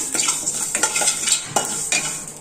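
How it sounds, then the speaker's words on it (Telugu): A tablespoon of cumin seeds lightly dry-roasting in a pan, with steady scraping stirs over a soft, continuous sizzle and dry rattling of the seeds against the metal. "ఈ జీలకర్రను కూడా లైట్గా వేయించుకోవాలి"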